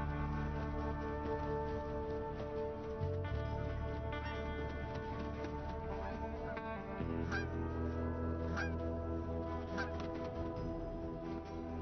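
Canada geese honking repeatedly in an Arctic wilderness, a steady loud chorus of layered calls with a few sharper honks standing out.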